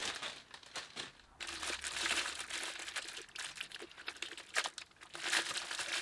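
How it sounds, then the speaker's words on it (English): Plastic bags crinkle and rustle steadily as they are pulled off a travel cajón drum, close to the listener, with continuous crackling and a few sharper crunches. "I'll just remove the plastic bags so we can take a proper look at what we've got."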